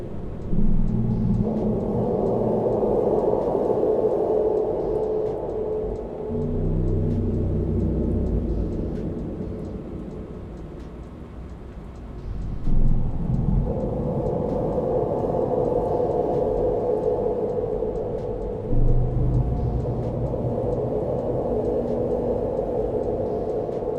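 A deep, rumbling monster roar sound effect with added reverb swells and sustains with a long reverberant tail, fading briefly midway before surging again, loud and cavernous throughout.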